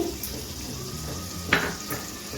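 Chopped tomato dropped into sizzling spices in a pan on medium-low gas for a brinjal and paneer dish, a steady frying hiss with a sharp louder splash of sizzle partway through and a faint utensil clink.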